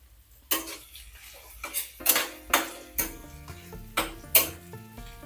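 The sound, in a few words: chopped onions added to cooking pan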